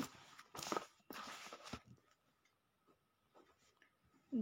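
Pen scratching across paper while short answers to a Class 7 science lesson on human food are written out, with a few scribbling bursts early on, then quieter, sparse strokes and a short final scratch.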